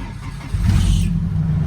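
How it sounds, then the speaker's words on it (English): A Nissan S14 engine cranks briefly and catches, settling into a loud, close, rumbling idle. "I'm just turning the car on."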